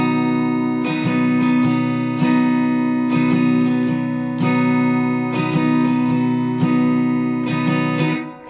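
Acoustic guitar strummed in a swung pattern of two downstrokes then down-up-down-up for the intro and verses of a song, a steady ringing chord with crisp, regular strum accents, played alone and close.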